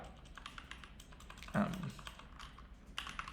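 Fingers typing on a computer keyboard produce a steady patter of light key clicks at close range, with a faint voice murmuring in the background partway through.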